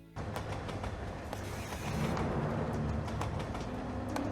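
A train and a motorcycle racing in a chase in the video game Dead Rising 2: a continuous rumbling, rolling roar with faint clicks, holding steady and growing slightly louder toward the end.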